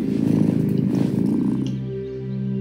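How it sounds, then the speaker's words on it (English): A cat purring in the cozy farming video game Wylde Flowers, a steady close rumbling purr that runs continuously and softens toward the end, with no talking over it. "Listen to that purr."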